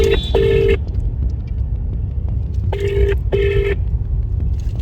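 An outgoing phone call rings in bursts, with two long tones early and two more around the middle, over a steady low rumble like a moving car.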